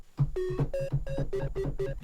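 Distorted synth chop melody run through an Arturia distortion, with bright buzzy repeated notes over a steady pulsing low beat, loud and up front with no voices.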